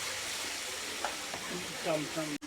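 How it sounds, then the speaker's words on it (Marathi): Black masala is sautéed for crab fry in a pan over a wood-fired chulha, giving a soft, steady sizzle with a few scraping stirs and a brief knock near the end. "खेकड्यासाठी काळा मसाला बनवलेला आहे मसाला परतून घेऊया"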